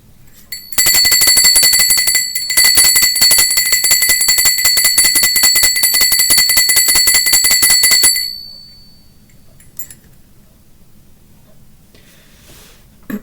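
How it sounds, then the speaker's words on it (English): High bell struck in a rapid continuous trill for about seven seconds, loud and near, then stopping abruptly and leaving quiet room tone. "And group 3 is the high bell."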